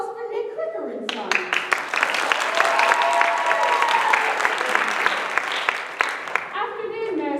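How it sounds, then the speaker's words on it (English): A theater audience bursts into warm applause during a stage musical, dense clapping that swells and holds for several seconds, with a voice talking just before it starts and again as it dies away. "let's give a warm round of applause for Nick Cricker and Son."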